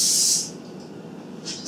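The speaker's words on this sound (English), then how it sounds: "make sure you spray the bottom and also the sides" Cooking spray hisses in a strong burst onto loaf pans for pumpkin pecan bread, then fades, and a second shorter spritz comes near the end; close and fairly loud, with no talking.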